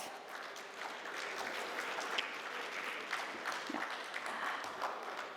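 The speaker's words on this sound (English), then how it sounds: "With a big applause." Steady audience applause fills a hall as a moderator is welcomed at an architecture chapter event, many hands clapping at an even pace from some distance, fairly soft and sustained.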